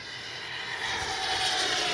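An Arrows RC MiG-29 model jet whooshes past with a steady, rising high-pitched engine roar that grows slightly louder toward the end.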